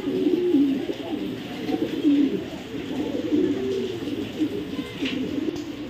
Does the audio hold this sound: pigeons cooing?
yes